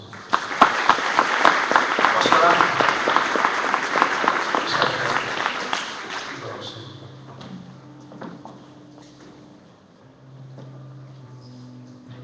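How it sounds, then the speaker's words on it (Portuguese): A church congregation at a São Paulo service applauds loudly for about six seconds, then the clapping thins and fades out as a single voice speaks over quieter background sound. "Vamos aplaudir o Senhor."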